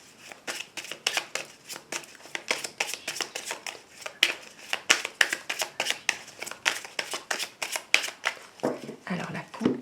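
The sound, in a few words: tarot cards being shuffled and cut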